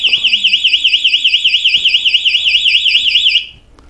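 Alarm of The Barnacle parking enforcement device, a loud, continuous warbling electronic siren that rises and falls rapidly for about three and a half seconds before cutting off abruptly.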